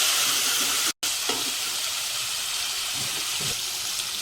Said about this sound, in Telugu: ఇలా ఒకసారి మంచిగా పుదీనా ఆయిల్లో ఫ్రై అయిన తర్వాత నెక్స్ట్ ప్రాసెస్ చూసేద్దాం